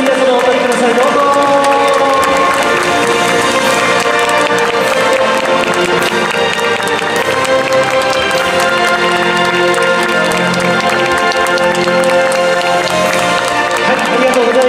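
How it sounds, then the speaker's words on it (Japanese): Crowd applause from fans at the 2021 Super GT Suzuka Round 3 podium ceremony, where GT-R cars swept the podium. The clapping is loud, dense and unbroken throughout, mixed with crowd noise and a busy background. "ファンの皆さん、今一度大きな拍手をお願いします"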